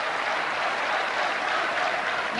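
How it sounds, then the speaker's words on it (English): A large crowd applauds at the Eurovision Song Contest in 1988, with a loud, dense and steady clapping that fills the whole stretch without a break. "There's a big crowd here."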